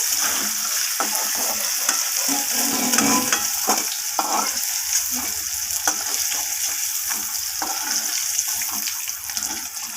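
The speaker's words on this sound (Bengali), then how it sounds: "উচ্ছেটা দেখে বুঝতেই পারছেন কতটা ভাজা হয়েছে" Bitter gourd pieces fry in hot oil for a vegetable curry, giving a steady, close crackling sizzle with scattered pops and stirring clatter throughout, no voices.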